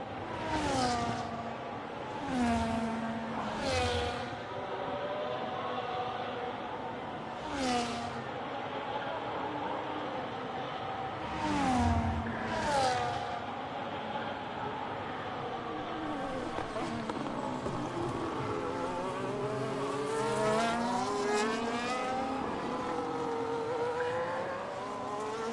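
A race car circles the wet track at Monza, its engine note rising and falling as it passes repeatedly at moderate distance, with a steady hiss and other engine drone between passes.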